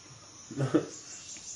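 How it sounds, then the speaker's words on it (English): Crickets chirp in a forest as a faint, steady high-pitched trill running throughout, with a brief low murmur rising and fading near the middle. "Like crickets and stuff."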